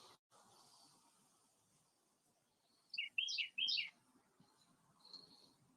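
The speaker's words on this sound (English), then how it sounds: "I do have birds flying around chirping right now" A few small birds chirp outdoors in quick, bright bursts, faint against a quiet background, with a brief later call.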